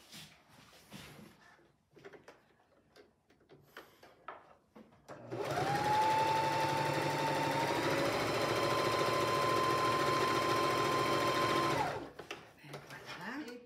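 A sewing machine stitches quilt pieces together in one steady, loud run of several seconds, its motor humming evenly, with quiet talk before it starts and again after it stops.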